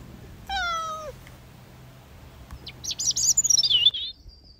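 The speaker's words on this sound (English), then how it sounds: "Neil, a characterful cat rescued from Kabul, seems drawn to this warm place." A cat gives a short, clear meow, then after a pause a rapid run of high chirping calls follows, all close by in a quiet space.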